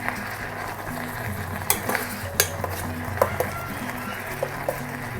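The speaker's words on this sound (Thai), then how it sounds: "ใส่น้ำปลาลงไปเลย น้ำปลาเนี่ยจะได้เข้าเนื้อ รวนให้สุกเลยนะคะ" Minced pork stir-fried with fish sauce in a pan for larb, a steady sizzle under frequent sharp metallic scrapes and taps of a spatula against the pan, close and clear.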